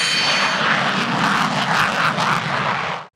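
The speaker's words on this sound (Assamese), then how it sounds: "বিশ্বৰ ঘাতক যুদ্ধ বিমানৰ অন্যতম ৰাফাল" Rafale fighter jet aircraft producing a loud, continuous broadband engine roar that holds steady for about three seconds before cutting off abruptly, heard alone without voices.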